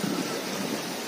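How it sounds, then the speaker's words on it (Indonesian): Waves wash steadily at the river mouth of Cocopenan beach, a continuous broad surf roar mixed with wind buffeting the microphone, with no voices. "saya tepat berada di muara Pantai Cocopenan"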